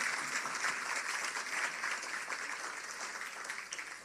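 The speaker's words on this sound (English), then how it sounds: "Now I need you to give this organization another big round of applause" Applause at a public sector service excellence awards ceremony, a fairly quiet, steady patter of many hands clapping that tapers slightly toward the end.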